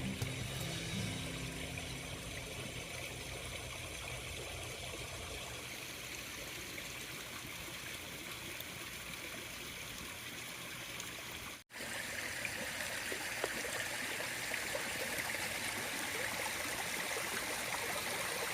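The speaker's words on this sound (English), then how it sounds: "Doesn't all that sound of running water just put you at ease?" Steady running water from a garden koi pond, a continuous trickling and splashing rush that stays even and close for the whole stretch with no voices.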